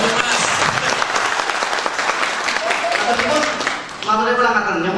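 An audience applauds at a seminar, sustained clapping from many people for about four seconds before a voice starts speaking over the tail end.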